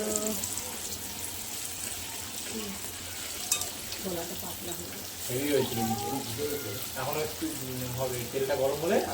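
Palm fruit and rice flour fritters fry in hot oil with a continuous crackling sizzle that swells louder toward the end, while a voice talks intermittently over it.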